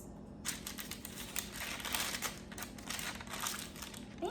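Parchment paper crinkling and rustling on a kitchen counter while baking French macarons, a quiet run of close, crisp crackles with a faint hum beneath and no talk.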